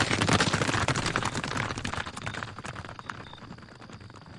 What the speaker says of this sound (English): Light them torches, hop on the horses, and fast to the Warmwell town.